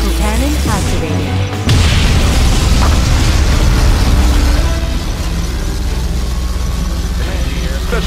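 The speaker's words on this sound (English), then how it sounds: "Particle cannon activated." A loud, booming particle cannon blast erupts in Command & Conquer: Generals, followed by a sustained rumbling roar of weapon fire and engine noise in a busy game battle.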